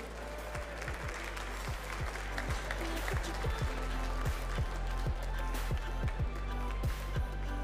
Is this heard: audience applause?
yes